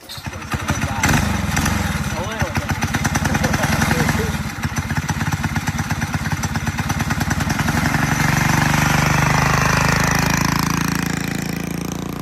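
A loud motorcycle engine revs and runs roughly, with heavy rumbling and sputtering throughout, and people talking underneath at the start.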